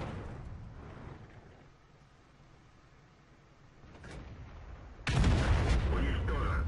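A rumbling game soundscape fades, then a sudden loud tank cannon blast from World of Tanks erupts near the end and lingers as a heavy, noisy roar.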